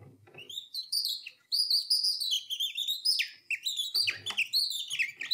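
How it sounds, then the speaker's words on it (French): A nightingale sings in the morning, a continuous run of bright, varied whistles, trills and chirps, close and clear, with no voices over it. "Voici, messieurs, dames, aujourd'hui exceptionnellement, le rossignol du matin."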